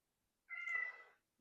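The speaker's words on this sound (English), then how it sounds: "My cat's meowing over here" A house cat gives a single clear meow of about three-quarters of a second, close by and alone in an otherwise quiet room.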